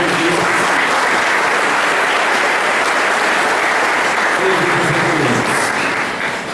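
Congregation at a Sunday Mass applauding the mothers present, a steady, dense wash of clapping filling the church for the whole stretch, with a voice briefly audible beneath it.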